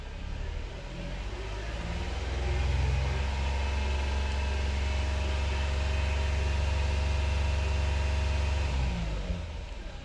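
A 2022 Hyundai Palisade engine idles in a steady, low, even hum with a constant rumble and no revving, running unchanged for ten seconds without talk.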